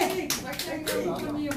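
A crowd at a political candidate's press conference at a Korean city hall claps in scattered rapid bursts, close by, over a voice speaking.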